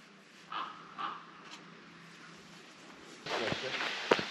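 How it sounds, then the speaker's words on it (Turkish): Crows caw outdoors in the countryside around the old town of Gediz: two distinct calls, then a fainter third, at moderate distance, followed by louder rustling and handling noise close by. "Kargalar."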